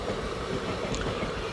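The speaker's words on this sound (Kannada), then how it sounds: "Mysuru Talaguppa intercity express crossing ಆಗ್ತಿದೆ ನೋಡಿ ಬೆಳಗೊಳ ರೈಲ್ವೆ ಸ್ಟೇಷನಲ್ಲಿ" The Mysore–Talaguppa Intercity Express passes at Belagola railway station in a continuous, even rumble with hissing broadband noise, steady in loudness throughout.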